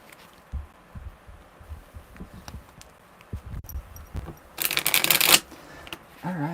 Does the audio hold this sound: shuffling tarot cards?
yes